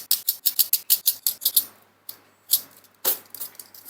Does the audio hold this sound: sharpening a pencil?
yes